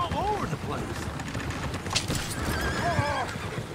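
Horse whinnying and neighing in Red Dead Redemption, with repeated rising-falling calls over steady clip-clopping hooves and a busy game backdrop with scattered gunfire.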